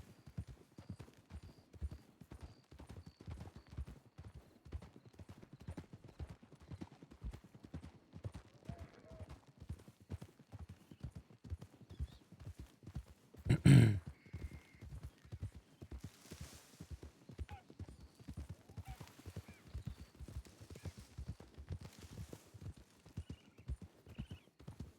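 Horse hooves clip-clop steadily in a Red Dead roleplay game, an even walking rhythm running throughout, with one sharp loud burst midway and faint voices in the background.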